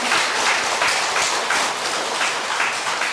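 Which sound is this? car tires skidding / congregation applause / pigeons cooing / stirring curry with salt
congregation applause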